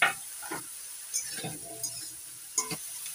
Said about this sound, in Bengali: ওই তেলের মধ্যেই দিয়ে দিচ্ছি বেগুন আর শিম ভেজে নেব